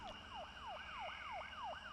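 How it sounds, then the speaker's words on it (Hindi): A distant police car siren wails in a steady rising-and-falling cycle, repeating about every third of a second, faint and far off against a quiet background hum. "कहीं दूर कोई पुलिस की गाड़ी सायरन बजाती कहीं चली जा रही थी।"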